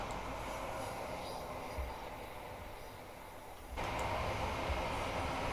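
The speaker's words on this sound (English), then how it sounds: "The thing is with the Train Sim Classic IET EP, it sounds very much like an electro star, the running sounds." A Class 802 IET train running in Train Sim World, a steady rumbling rolling drone with a soft whine that drops quieter midway and then swells louder again, with no voices.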